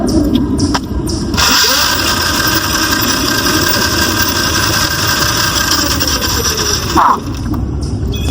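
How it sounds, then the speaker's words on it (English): The drive chain of a Tuttio Soleil 01 electric motorcycle running, a loud, close, continuous mechanical whir and rattle that holds steady for about eight seconds, with no talking. "This chain makes so much noise, and I'll show you in a second. Just listen to how loud it is."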